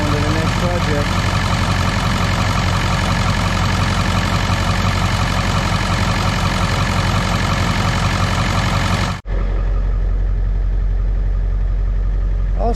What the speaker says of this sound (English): They sound a lot better running on 8 cylinders instead of 4.